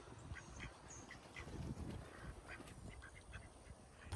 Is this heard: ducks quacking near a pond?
yes